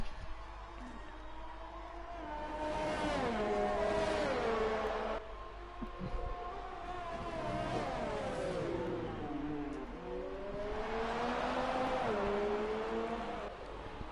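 Race cars in a racing video game on an Austrian circuit in the rain rev and accelerate. Engine notes rise and fall repeatedly as cars pass and shift, heard alone without talk.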